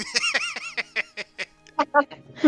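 A person's voice imitates a deer with a string of strained, honking goose-like cries, several wavering calls and short bursts in quick succession, close and fairly loud.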